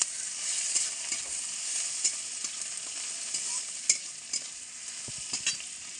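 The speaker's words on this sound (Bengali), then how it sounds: "একটু রসুন বাটা ভালো করে মিক্স করে নেব।" Garlic paste is stirred into red lentils cooking in a pan with tomato, a soft continuous sizzle broken by frequent quick scraping strokes of the spoon, close and fairly quiet, with no talk.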